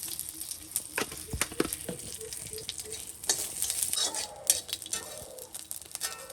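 Spices, garlic and green chilli frying in oil in a pan while being stirred, close up. A soft, steady sizzle runs under repeated clinks and scrapes of a utensil against the pan.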